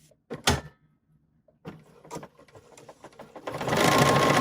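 A BERNINA sewing machine with an Edgestitch Foot #10 stitches a bag handle: a few soft clicks and handling thumps, then a steady, close, dense whirring of the needle running fast that builds through the end.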